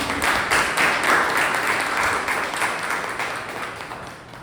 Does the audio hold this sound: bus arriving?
no